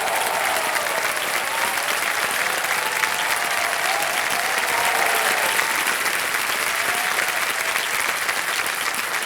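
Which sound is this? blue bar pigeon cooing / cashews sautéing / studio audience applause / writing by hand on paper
studio audience applause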